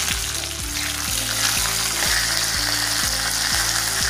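Two sprigs of curry leaves and chilies fry in hot oil for a mango pulissery, giving a loud, dense, continuous sizzle up close, with regular rhythmic low clicks running underneath throughout.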